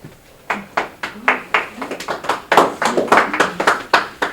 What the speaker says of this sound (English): Well, now don't clap until you heard it.